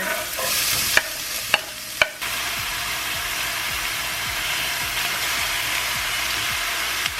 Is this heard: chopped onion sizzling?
yes